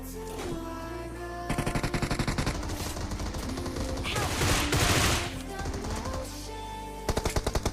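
Rapid automatic gunfire and explosions in a mobile shooter video game during a rush-style match, dense bursts of shots repeating over music and game effects, loud and continuous.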